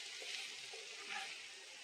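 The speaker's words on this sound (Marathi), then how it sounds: "आता आपण प्रथम 2 मोठे कांदे घेतलेले आहेत बारीक चिरून, ते ह्याच्यात तेलामध्ये घालून घेऊ" Finely chopped onions (two large) sizzling in about two spoonfuls of hot oil for Mumbai-style ragda pattice, a steady close hiss with soft crackle and a faint stirring scrape, no talk.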